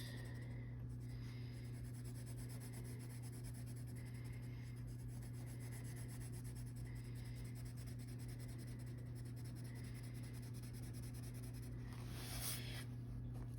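A colored pencil scratches and rubs steadily on the paper of a coloring book, a faint continuous grainy texture over a constant low electrical hum, with no voices.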